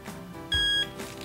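Double electronic beep from an FPV pan-tilt head tracker as it recenters, a short bright two-tone tone that stands out clearly over a quiet background.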